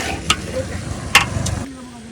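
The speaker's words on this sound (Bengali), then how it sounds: "ঘি দিয়ে দিলাম।" Ghee poured into a hot cooking pot while making chicken polao in a village kitchen, giving a couple of short sizzling bursts and stirring noises, fairly close, with no talk.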